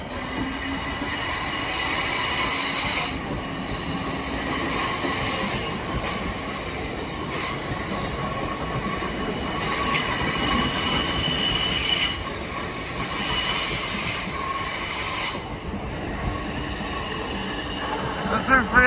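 A noisy Class 376 electric train, unit 376014, runs through Lewisham station on a service to London Charing Cross. Loud, steady rumble with squealing wheels and rail clatter lasts throughout, with a faint voice briefly heard over it.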